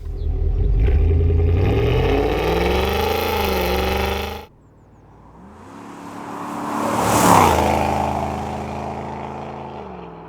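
BMW X5 E53 4.8iS V8 engine running: a steady, fairly loud engine drone that cuts off abruptly, then a second engine sound rises in pitch and volume to a peak before easing away.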